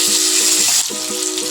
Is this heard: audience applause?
no